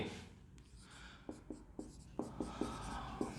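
During a maths class, someone writes on a board with a series of quick taps and short strokes in an uneven rhythm. The sound is close and soft against a quiet room hum.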